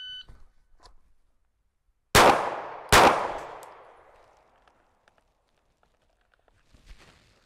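Two loud pistol shots fired one-handed after a draw during a timed shooting drill, spaced under a second apart, each a sharp crack with a long ringing decay, followed by faint shuffling and a quiet beep-like blip.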